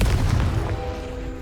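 A Confringo blasting spell fires in Hogwarts Legacy, a loud booming burst with a heavy low thump at the start that rumbles and fades over about a second.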